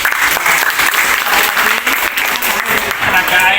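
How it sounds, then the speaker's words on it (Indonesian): Junior high school students at an energy quiz event clap loudly and briskly after a correct answer, bright close applause with a few voices mixed in beneath it. "tepuk tangan."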